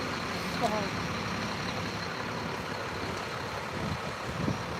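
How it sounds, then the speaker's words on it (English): Engines rumble in the background at an outdoor press gathering in Washington, a steady low vehicle drone like idling trucks or buses running throughout, with faint voices around. "There's a lot of engines in the background."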